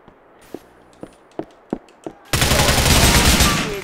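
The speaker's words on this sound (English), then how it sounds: "Who else is shooting right here?" Gunfire in Grand Theft Auto IV: five spaced single shots ring out, then a sudden sustained loud barrage of rapid fire takes over and continues to the end.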